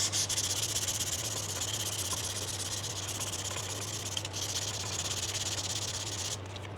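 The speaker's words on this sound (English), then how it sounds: "We'll just move up to 600 grit now." Fine 600-grit sandpaper rubbed along a wooden handmade snooker cue during a repair, a steady, close, continuous hiss of sanding strokes running unbroken for several seconds with no talk.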